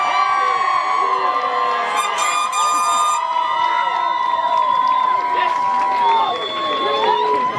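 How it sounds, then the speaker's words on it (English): Parents at a senior walk cheer loudly for the class of 2022, a crowd of overlapping shouts and whoops that carries throughout, with some clapping buried underneath. "can we give the class of 2022 a big round of applause?"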